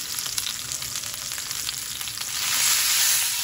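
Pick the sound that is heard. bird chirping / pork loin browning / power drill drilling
pork loin browning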